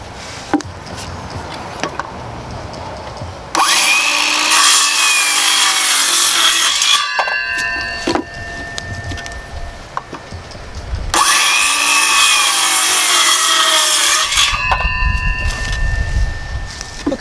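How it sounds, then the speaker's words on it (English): A circular skill saw cuts an angle across the top of a 2x4 to form a stake point. There are two long, loud whining cuts, each several seconds long, separated by quieter handling noises and brief knocks. "just going to cut the angle on the top of it with a skill saw"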